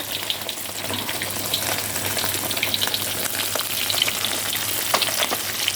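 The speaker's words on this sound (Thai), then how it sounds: "อันนี้ทอดครั้งสุดท้ายครับ" Sun-dried fish frying in hot oil, a dense continuous sizzle and crackle with bright spitting pops, close and fairly loud, steady throughout with no talking.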